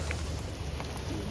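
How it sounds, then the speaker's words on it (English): Heavy storm rain pouring down steadily, a dense continuous hiss with no pauses, close and fairly loud throughout the short stretch. "That's a lot of rain falling down."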